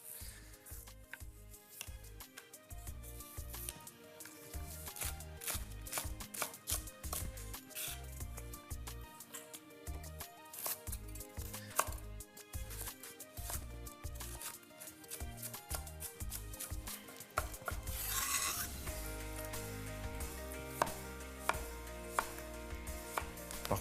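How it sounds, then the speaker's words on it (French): A knife chops celery into tiny brunoise cubes for a chowder, with quick rhythmic taps on a cutting board, close and crisp in runs with short pauses, and no talking. "brunoise de légumes par après parce que comme vous pouvez le constater, il y a pas mal de terre sur le céleri"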